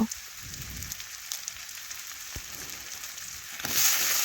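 Onions frying in a pan for a fish curry with yam, a soft steady sizzle and crackle with brief stirring scrapes, swelling louder near the end.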